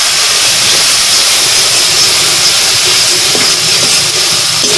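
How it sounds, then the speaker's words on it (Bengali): Spice paste of turmeric and chili powder sizzles in hot oil as it is fried for a freshwater catfish curry, a loud, steady hissing crackle running unbroken throughout. "এবার আমি মশলাটা ভালোভাবে কষিয়ে নেব।"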